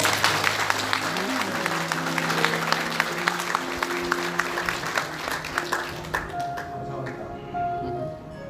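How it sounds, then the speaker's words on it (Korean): Wedding guests applaud the groom's parents at a Korean wedding ceremony. Dense, close clapping runs steadily with faint tones underneath, then thins out and fades near the end. "저희 부모님들 박수 한번 보내주시기 바랍니다"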